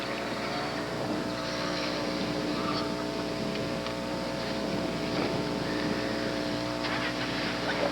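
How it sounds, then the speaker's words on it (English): An MG with an 1800cc engine on Yokohama tires runs an autocross course at the 1988 Canadian Solo 2 Nationals, giving a steady, continuous engine drone that holds at an even level throughout with no talk. "Mike Taylor out on the course right now in his MG."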